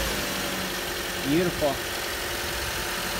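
A 2014 Toyota Corolla fitted with new spark plugs idles after starting, a low, steady engine hum heard up close while someone speaks briefly over it.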